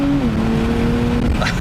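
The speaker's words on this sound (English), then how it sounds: "There we go, broke the wheels loose." A 2025 Nissan Z Nismo with a 420-horsepower twin-turbo 3-liter V6 accelerates hard with its rear wheels breaking loose, a steady close engine drone holding through the whole burst, joined near the end by a brief higher squeal.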